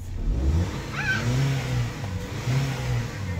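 A Nissan X-Trail with a pedal sensor problem revs as the accelerator is pressed, its engine rising and falling in a few mid-pitched swells, close and steady, with no talking.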